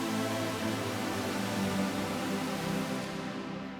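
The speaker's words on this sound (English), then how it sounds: "I ended up coming up with the synth that sounds like this." A custom synth pad patch built in Studio One holds a dense, sustained wash of sound at a steady level for a few seconds, tailing off slightly at the end.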